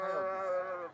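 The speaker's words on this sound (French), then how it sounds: "Combien y a-t-il de moutons dans votre troupeau?" A sheep from a flock in the Tashkent mountains of Uzbekistan gives one long, clear, wavering bleat, close and loud, with no talk.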